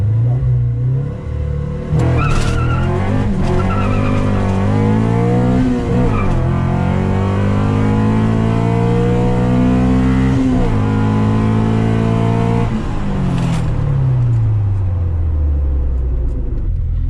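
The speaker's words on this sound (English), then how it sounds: "The car is spinning too much. I can't get traction off the line." A B20 VTEC Honda Civic drag car launches hard off the line with wheelspin, its engine revving loud and steady for many seconds while pitch climbs and drops through gear changes, with tires squealing.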